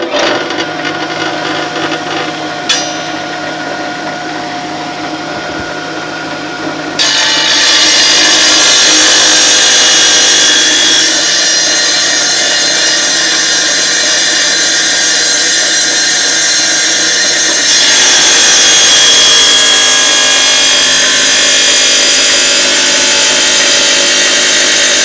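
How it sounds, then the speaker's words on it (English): Wet saw cutting a curved half circle in floor tile for a round toilet flange, a loud, close continuous whine that grows harsher as the blade bites into the tile, with no voices. "I'm going to show you two ways to cut this. One is on a wet saw."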